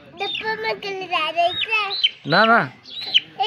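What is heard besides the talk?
chicken chick peeping and clucking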